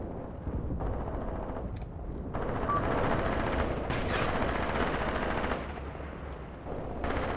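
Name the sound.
tank and gun fire in Graviteam Tactics video game battle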